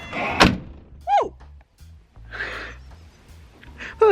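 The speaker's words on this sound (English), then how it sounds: "Door closing commences." A converted bus door thumps shut with a sharp slam, followed by squeaking and hissing mechanism sounds and scattered softer knocks, close and fairly loud in a quiet space.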